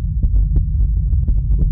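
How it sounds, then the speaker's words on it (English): A thudding heartbeat pounds through a horror pizza delivery video game, a loud, steady low throb repeating about every fifth of a second over a continuous deep hum, with no talk. "Wait till your heartbeat comes down."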